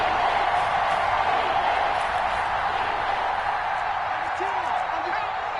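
A football stadium crowd roars as a dense, continuous wall of noise, with voices talking over it.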